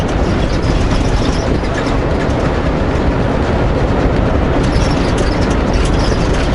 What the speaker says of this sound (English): Oh, another train down there.